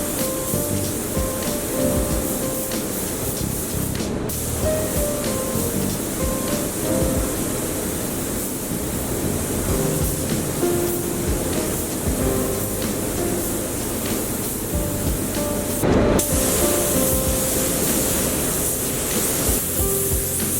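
Spray gun laying a sealing clear coat across the large areas of a repaired plastic bumper bar, a steady close hiss running unbroken with only brief dips.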